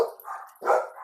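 Dogs barking in a short burst of two or three close, moderately loud barks, with no talking.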